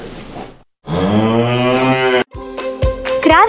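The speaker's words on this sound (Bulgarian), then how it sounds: "Кравата казва..." A cow on a village farm moos twice, first a long, loud, drawn-out low call, then a shorter, wavering second moo after a brief gap, clear and close with no talk.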